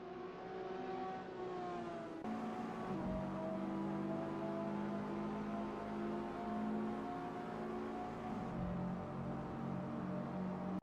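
A race car in a sim racing game holds a steady engine drone through a turn. The pitch shifts as it changes gear around 2 and 8.5 seconds, and the engine stays continuous and fairly loud with no talk over it.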